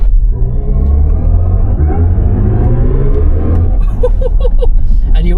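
BMW i5 M60 Touring electric car accelerating hard in boost mode, a steady low rumble and rising whine building continuously up close, with a brief shift in tone toward the end.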